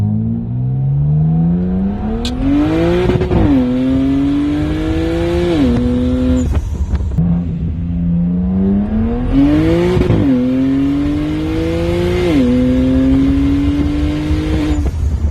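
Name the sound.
BMW 335i N54 single turbo engine revving with a ticking noise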